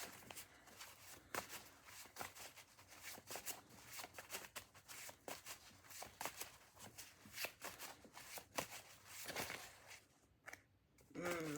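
A deck of cards shuffled for a tarot-style reading, with dense, rapid riffling and flicking clicks running throughout, close and fairly quiet, with a few sharper taps near the end.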